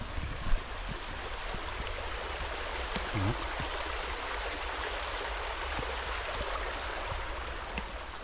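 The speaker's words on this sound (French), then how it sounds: "On entend même des rivières, des ruisseaux" A steady, soft rush of flowing water from rivers and streams heard from nearby, continuous and even with a faint knock early on.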